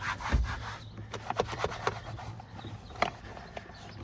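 Cleaning product rubbed into a car's interior surfaces, an irregular series of close scuffing and rubbing strokes with soft knocks, no talk.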